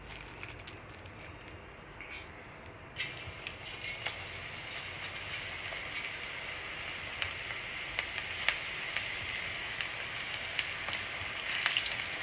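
Onion pakodi batter hits hot oil, and a soft crackling sizzle swells after a quieter first few seconds, then keeps fizzing with scattered sharp pops close by.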